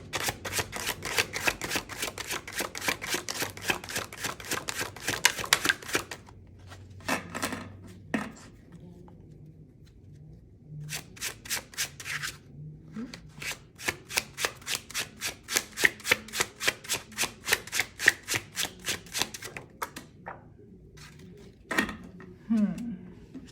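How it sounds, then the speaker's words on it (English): Cards are shuffled in several quick riffling bursts of rapid clicks, separated by pauses and small taps, close and fairly quiet. "I know I'm shuffling kind of wild"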